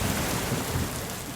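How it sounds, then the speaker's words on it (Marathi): Rain falls in a steady, dense hiss at moderate volume for a brief moment, with no voices. "पाऊस पडतोय."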